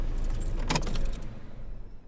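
Car keys jangle briefly in the ignition, a short bright metallic rattle near the microphone that fades after about a second, with no talk.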